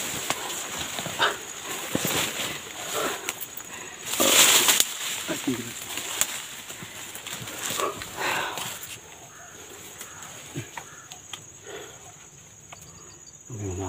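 Dogs bark intermittently outdoors against constant cricket and insect buzzing, with scattered bursts of noise and a louder stretch midway.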